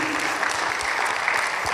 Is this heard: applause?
yes